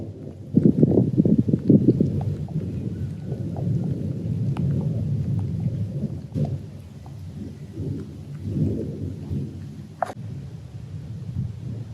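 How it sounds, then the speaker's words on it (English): Rain falls steadily outdoors at an irrigation pipe trench, a constant soft wash with low rumbling swells and a few sharp drips or taps scattered through it, no voices. "And even though it's raining"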